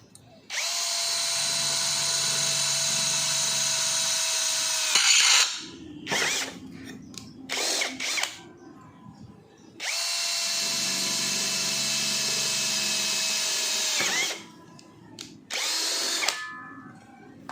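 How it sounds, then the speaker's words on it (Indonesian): An NRT Pro DC743 cordless brushless impact drill with a 5 mm bit bores into metal in two long, steady whirring bursts, each followed by short clattering stops and brief mechanical rattles, close and alone. "Di sini saya menggunakan mata bor dengan ukuran 5 mm."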